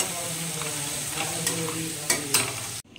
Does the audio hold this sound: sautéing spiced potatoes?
yes